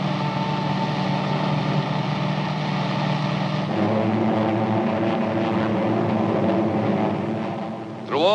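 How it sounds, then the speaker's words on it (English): Allied WWII aircraft engines in flight, a steady loud droning roar with a shift in pitch partway through and a brief rising whine at the end. "Allied planes, thousands of them, continued to soften enemy defenses and communications in daily raids."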